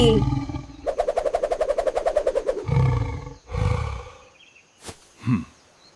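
A lion roars in a series of deep, pulsing grunts that build and fade, followed by a few shorter, separate roaring calls in a quiet setting.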